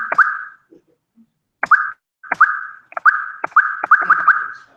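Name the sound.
speaker's own recorded voice sound effect in his Unity mobile game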